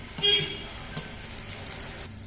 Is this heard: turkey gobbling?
no